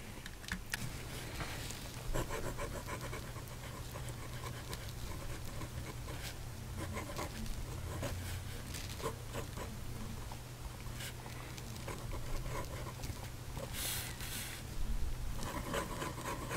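A Moonman N2 fountain pen nib with Azurite ink scratches and rubs across paper in steady, close strokes, with faint rustling and a low background hum throughout.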